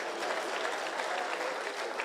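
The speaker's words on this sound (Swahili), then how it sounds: "Asante sana, mpigieni makofi." Steady audience applause at a public security forum in Migori Town, Kenya: a dense, continuous wash of many hands clapping, fairly distant and even in level throughout.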